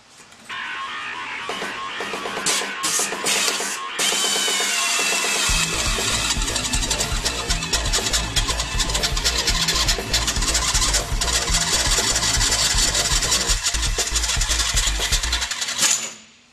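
A power drill with a hole saw spins up and grinds steadily through metal on a Jeep TJ, with a harsh, loud whine and rattling chatter that runs continuously, then winds down at the end.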